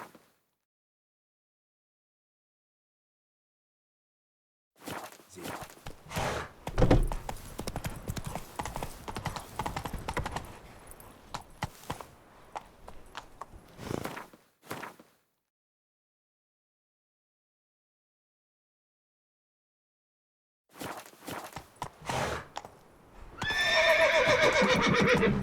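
A horse in the video game The Witcher 3 clip-clops along in rhythmic bursts of hoofbeats separated by silence, ending with a loud neighing whinny.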